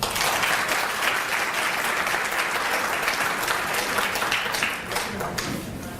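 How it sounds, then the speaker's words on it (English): Guests at a charity fundraising dinner applaud steadily with full, even clapping for several seconds, easing slightly toward the end. "please give a round of applause to that"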